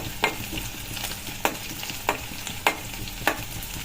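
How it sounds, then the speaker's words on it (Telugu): Onions for a long brinjal fry are stirred and fried in a pan until golden brown, with a steady sizzle broken by five sharp, regular scrapes of the spoon, close and without speech. "గోల్డెన్ బ్రౌన్ వచ్చేదాకా ఆనియన్స్ని"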